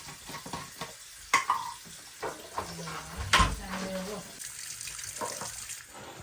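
Lukewarm water runs from a home kitchen tap into a pot, with splashing and clattering in between, while someone talks over it.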